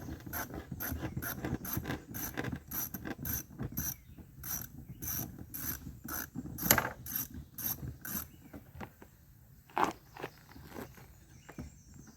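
A socket wrench ratchets in short bursts of rapid clicking while someone works on a four-wheeler, close and crisp, with pauses and a few scattered clanks toward the end, no speech.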